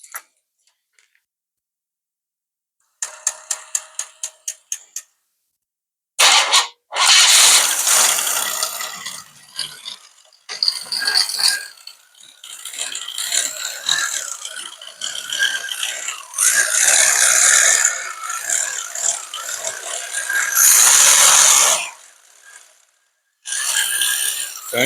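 A 1985 Cadillac engine fitted with a new muffler cranks with a quick series of ticking starter clicks, catches, and settles into a loud, steady, broadband idle with a couple of brief dips, close to the car.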